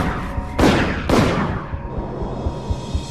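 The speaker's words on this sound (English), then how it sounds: "a man approaches and opens fire" Two sharp, loud gunshots as a man opens fire on a young couple parked at night in Blue Rock Springs Park, each crack trailing off into a long echoing decay, with faint rhythmic knocks afterward.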